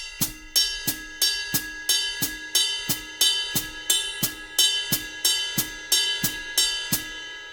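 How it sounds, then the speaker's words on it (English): A steady 5/4 drum groove: bright, ringing ride cymbal bell strikes on a regular pulse with crisp hi-hat chicks between them, up close and without voices. "my right hand is gonna be playing the bell of the ride cymbal"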